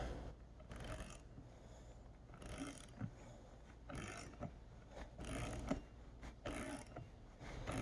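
A box end wrench turning lubricated fine-thread fasteners during power steering system service, producing repeated ratcheting and metallic clicking bursts in a steady rhythm, close up, with no talking.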